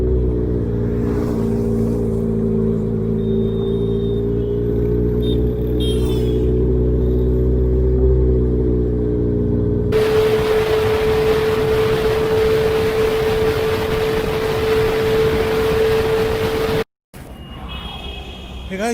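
Kawasaki Ninja 1000 motorcycle being ridden on a road trip, a steady loud engine drone that holds pitch, then heavy wind rush and road noise take over with the engine tone still underneath, briefly cutting out before resuming.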